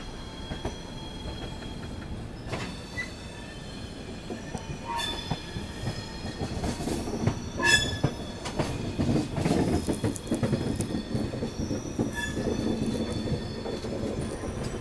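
The 12809 Howrah Mail passenger train rolls steadily along the rails, with continuous rumble, rhythmic wheel clatter over joints and occasional squeals from the wheels, heard up close with no talking.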